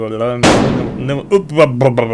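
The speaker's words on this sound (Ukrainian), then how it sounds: "Я сам почув постріл." A single sharp video game gunshot cracks loudly and echoes away while people talk before and after it.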